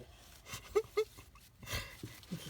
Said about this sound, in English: You can hear my dog, he's dreaming.